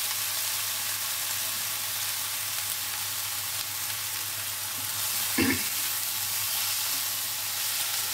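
Pea paste and salt frying in a wok: a soft, steady sizzle over a low hum, with one brief clatter of stirring midway.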